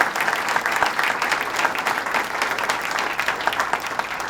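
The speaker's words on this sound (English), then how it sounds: "let's give them a round of applause and recognize them." Applause from a large audience at the 2016 Great New York State Fair, dense continuous clapping that holds steady for several seconds, loud and close.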